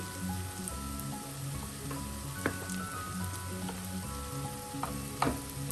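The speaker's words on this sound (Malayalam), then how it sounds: "എല്ലാം കൂടെ നമുക്ക് നന്നായി ഒന്ന് ഈ എണ്ണയിൽ ഒന്ന് മൂപ്പിക്കാം" Hot chili, Kashmiri chili and black pepper powders sizzling in oil with small onions, a soft steady frying hiss with occasional scrape clicks of stirring, close and fairly quiet, with no talking.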